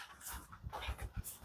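A pet dog whimpers indoors in an apartment living room, giving a few short soft whines and snuffling sounds, close and fairly quiet, with no talking.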